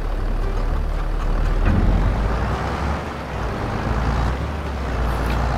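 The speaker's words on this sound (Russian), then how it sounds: "вот эти звуки оборудования, прицепа, трактора хорошо сделали" Tractor engine and towed trailer in the Farming Simulator 22 farming game, a steady loud low rumble with constant machinery noise and a brief surge partway through, no talking.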